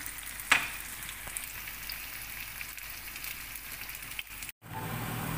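Onion frying in a pan gives a soft, steady sizzle throughout, broken by a faint click and a brief cut near the end, with no one talking.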